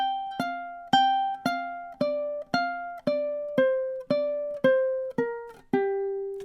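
Ukulele plucking a pentatonic riff, a dozen bright, evenly spaced notes and double-stops ringing out one after another, clean and close with no talking.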